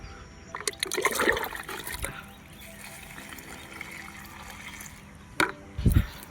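Water flows onto bottle gourd and sandalwood plants in a farm field, a faint steady trickle and splash with a few louder bursts and low voices nearby.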